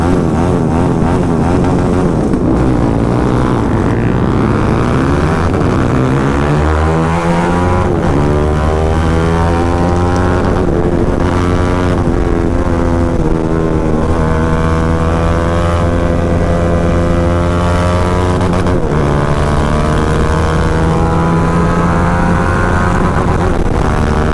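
TVS Apache RR 310 and KTM RC 390 sport motorcycles with aftermarket exhausts run together, producing a loud, continuous engine drone whose pitch swells and dips as they accelerate, with no talking.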